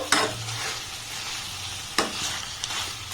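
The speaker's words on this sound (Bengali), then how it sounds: "গ্যাসের ফ্লেমটাকে একদম লো রেখে এটাকে কন্টিনিউ এইভাবে একটু নাড়াচাড়া করে নেব" Korean rice ball mixture stirred in a pan over a low gas flame, a soft continuous sizzle with two or three distinct scraping strokes of a spatula, close and fairly loud.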